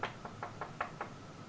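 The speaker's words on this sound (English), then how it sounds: "Suddenly you hear a sharp knock." Six sharp knocks on a door come in a quick, even sequence, close and distinct over a quiet background.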